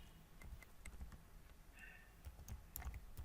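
A web address is typed on a computer keyboard, giving a few quiet, close key taps in a short, uneven run against faint room noise.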